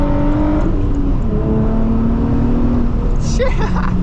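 Nissan 350Z running a muffler-delete exhaust, a loud continuous engine roar with rising and falling revs, heard close up.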